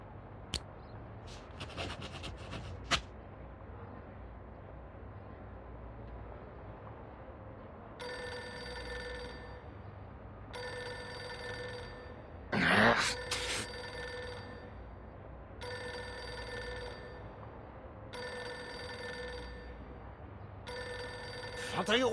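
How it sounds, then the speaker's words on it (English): Telephone ringing in the video game Reverse: 1999, a repeated electronic ring in evenly spaced bursts with pauses between them, fairly clear over a quiet background with a brief louder clatter midway. "Pick up the phone already."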